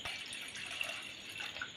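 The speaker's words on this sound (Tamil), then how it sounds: "1/4 லிட்டர் அளவு தண்ணி ஊற்ற போகிறேன்." Water poured into a pot of milk on a stove, a quiet continuous trickle with faint dripping, heard alone and fairly close.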